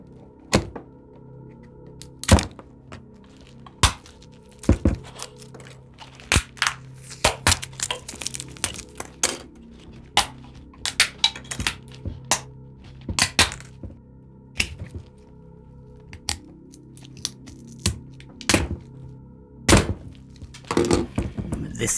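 Hardened epoxy shell being cracked and pried away, with irregular sharp snaps, thunks and crunching breaks repeating close by throughout, each crack sudden and separated by brief quiet gaps.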